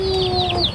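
Chickens in a coop beside a house give a brief burst of clucking, short repeated calls over a steady background hum, with no talk.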